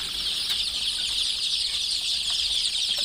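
Young chicks crowd a brooder during rainy, cold weather, producing a continuous, dense chorus of high peeping that stays even and steady throughout, with no talking.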